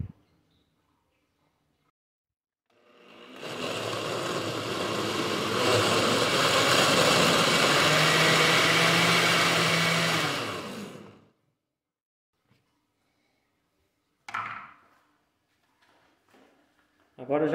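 A kitchen blender crushes biscuits for a milk pudding in one steady, loud whirring burst of about eight seconds, cutting off cleanly. Silence follows, then a couple of brief knocks near the end.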